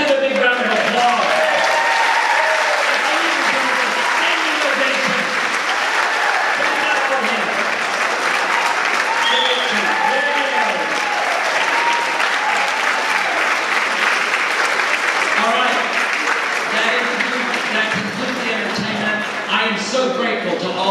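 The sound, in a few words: audience applause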